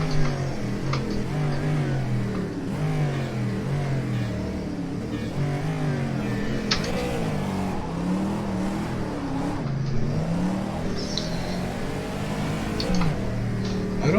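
V8 race car engine in rFactor 2, revving to around 7,800 RPM with repeated rising and falling pitch sweeps through gear changes, loud and continuous close up with no talk.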